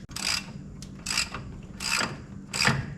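A ratchet wrench clicks in four quick bursts, close and loud, as it loosens a tie rod end nut on a lowered Chevy Silverado during coil spring and shock replacement.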